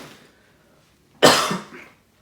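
A single loud, harsh cough bursts out close up after a quiet moment, with a short rough tail.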